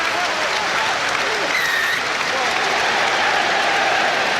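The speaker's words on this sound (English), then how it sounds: "And the applause still rings around Twickenham," A huge rugby crowd at Twickenham, home of English rugby union, applauds during the Premiership final between Northampton Saints and Bath, a broad, continuous roar of clapping with a broadcast voice faintly underneath.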